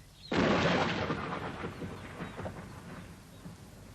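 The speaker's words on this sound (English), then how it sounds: "Going to be a storm." A storm breaks with a loud, close crack of thunder that rolls and rumbles away over several seconds, with a steady wash of rain beneath it and no talk.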